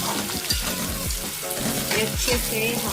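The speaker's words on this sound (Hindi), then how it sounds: "जब आप फुल फ्लेम पे फ्राई करेंगे तो ये नरम नहीं पड़ती" Vegetables for chicken shashlik fry over a full flame in a loud, continuous sizzle, with stirring scrapes coming through at regular intervals and a brief voice speaking over it.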